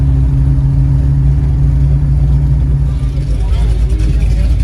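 A 1967 Pontiac GTO rolling slowly into a car show parking lot, its engine giving a loud, steady low burble that shifts slightly as it moves, with people talking over it.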